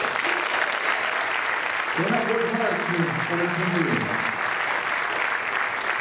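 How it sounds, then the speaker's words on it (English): A round of vigorous audience applause fills the hall at a US Army School of Music graduation concert, steady and loud throughout, with a voice speaking briefly over the clapping midway. "let's give a round of applause to these awesome MPTs"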